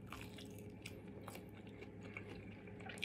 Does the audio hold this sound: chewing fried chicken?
yes